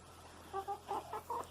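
Rhode Island Red hens give a short run of soft, close clucks, four or five quick calls in a row over a quiet background.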